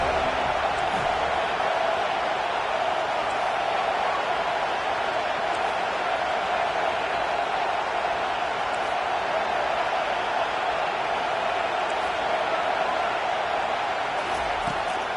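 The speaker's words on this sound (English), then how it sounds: "Decibels rising as the crowd gets behind this defense on third down" Steady, loud stadium crowd roar from NCAA 25 college football on third down, a dense continuous wash of voices filling the whole clip with a slight swell and no distinct speech.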